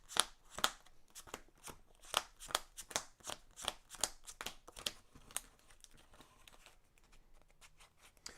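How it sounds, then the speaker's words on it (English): A deck of playing cards is shuffled during a Mage Knight board game, a run of quick, crisp riffling snaps that thin out and fade into softer shuffling toward the end. "Just want to shuffle."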